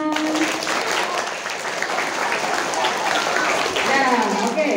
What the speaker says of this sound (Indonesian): Yang perempuan tepuk tangan dulu